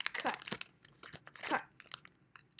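Crinkly plastic wrapper of a trading card pack rustles and crunches in short bursts, close up, as scissors snip through the packaging, with no talking.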